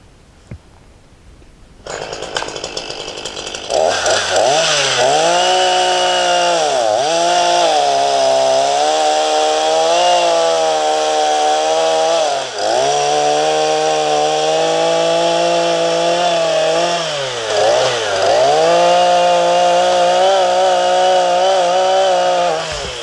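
A chainsaw cuts a felled red spruce into firewood lengths. After a brief quiet start it roars to full revs, then runs loud and steady close by, with a few short dips in pitch as the chain bogs into the wood.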